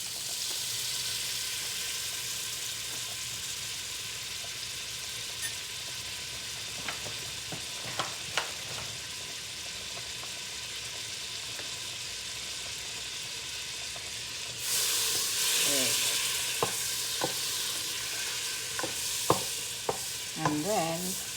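Butter, about six tablespoons, melts in a pan for mac and cheese, giving a steady close hiss and sizzle, with brighter bursts later and occasional light clicks of a utensil against the pan.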